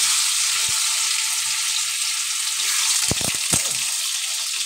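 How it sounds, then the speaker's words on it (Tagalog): Tofu pieces sizzle steadily in hot oil for adobo, a continuous close hiss broken by a few sharp pops and spatters near the end, with no talking. "Iprito na natin to ating tokwa guys."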